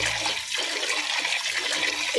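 Water gushes steadily from a village tap while tripe is washed, a continuous rushing splash close by with no voices.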